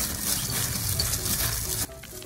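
A big basin of Vietnamese rice paper salad with scallion oil is tossed and mixed by hand, giving a steady close crackly rustle and sizzle-like crinkle that cuts off abruptly near the end, with no voices.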